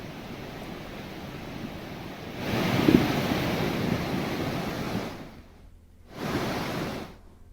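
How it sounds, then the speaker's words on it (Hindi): Floodwater of the swollen Yamuna river rushing past above the danger mark, a steady broad roar that swells louder midway, drops briefly, then surges again, with no voices. "आप देख सकते हैं कि इस तरह यमुना नदी का जलस्तर खतरे के निशान से ऊपर बह रहा है।"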